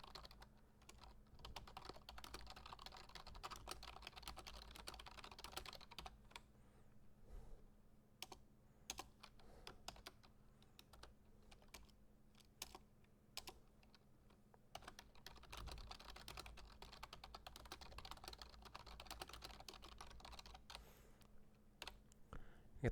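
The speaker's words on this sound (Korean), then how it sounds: "표를 넣기 앞서 먼저 문서 제목을 한번 타이핑해 보도록 하겠습니다." Someone types a document title on a computer keyboard in the Hangul 2010 word processor, producing a steady, quiet stream of close key clicks with brief pauses and no voices.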